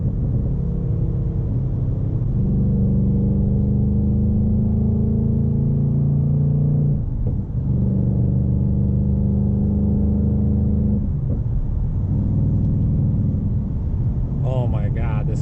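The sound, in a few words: Ford Mustang GT Bullitt driving around corners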